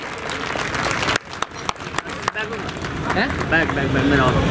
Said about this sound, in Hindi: डॉक्टर रतन लाल जी, जोरदार तालियों से स्वागत होनी चाहिए